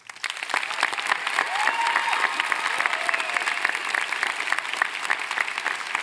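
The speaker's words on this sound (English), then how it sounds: "I invite the class of 2023 to give a round of applause to our parents" Graduating class of 2023 at a Westlake High graduation giving their parents a round of applause, a steady wash of many hands clapping at moderate distance, with a few cheers on top.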